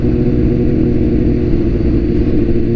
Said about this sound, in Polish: Dzisiaj jedziemy z moim kolegą, Aprilia Shiver 750